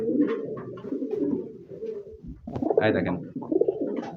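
Pigeons at a farm coo in low, throaty, rolling calls, several repeated close by, with someone speaking briefly over them.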